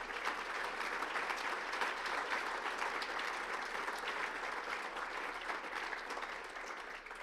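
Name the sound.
audience applause at an awards gala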